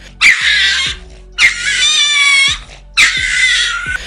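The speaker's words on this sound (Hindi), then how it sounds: "ये बिल्ली उस कुत्ते पर इतना भड़की" A cat yowls and screeches loudly at a dog in three long, drawn-out angry wails with brief pauses between.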